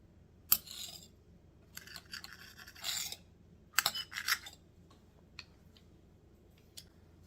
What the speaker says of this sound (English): I'm cutting the omelet in half.